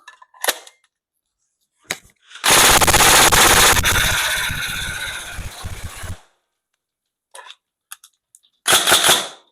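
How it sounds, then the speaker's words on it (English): A Tokyo Marui M4 URGI Next Gen airsoft AEG with recoil firing a loud sustained full-auto burst of rapid clattering shots, framed by short single clicks and mechanical snaps before and after, with a final brief burst. "So obviously it's a recoil gun, so we don't want that that banging, you know, that shock is going backwards and forwards."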